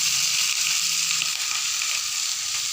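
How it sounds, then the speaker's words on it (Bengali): Tangra fish frying in a pan for a potato fish curry, gently stirred: a loud, steady hiss of hot oil fills the whole stretch without pause, with no voices. "মাছগুলিকে তুলে দিলাম, দিয়ে একদম হালকাভাবে এরকম একদম হালকাভাবে নেড়ে দেব"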